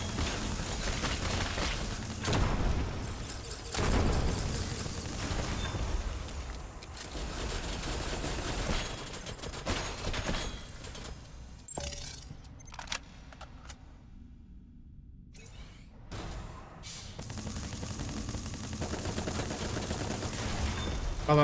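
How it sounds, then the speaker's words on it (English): Submachine gun fire in a video game: long, dense stretches of rapid automatic shots that stop for a few seconds of near silence and then resume, loud and close throughout. "This little SMG fucking also puts in work too."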